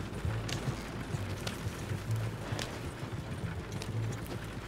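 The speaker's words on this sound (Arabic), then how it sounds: "الحصان بتاعي بيجري ورايا" A horse galloping in Red Dead Redemption Online, rhythmic hoofbeats thudding steadily over a low rumbling background, moderately quiet.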